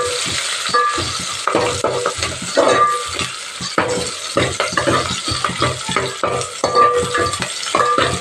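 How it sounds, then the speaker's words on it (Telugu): Onions and green chillies frying in hot oil while being stirred, loud close sizzling broken by repeated scraping and clinking strokes of a spoon against the pan at an uneven pace. "దీంట్లో ఫస్ట్ ఉల్లిగడ్డలు, అలాగే పచ్చిమిర్చి వేసుకొని కలుపుకోవాలి."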